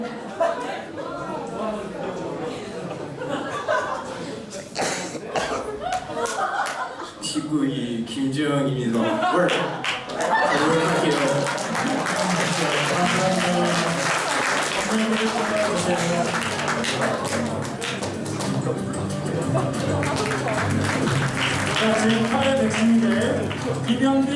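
An audience at a school entrance ceremony claps and applauds for new students, the sound building into sustained, dense clapping with voices and chatter mixed in throughout.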